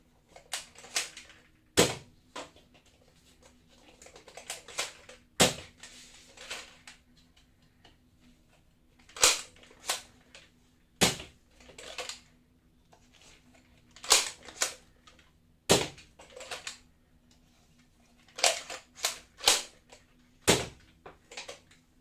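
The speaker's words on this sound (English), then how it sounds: "Firing a couple normal Nerf mega darts, the red ones." Nerf Fortnite Flare blaster firing red Nerf Mega darts: sharp, loud single shots spaced a few seconds apart, each trailed by clicking and clacking handling noises as the blaster is reloaded and primed, with no talking.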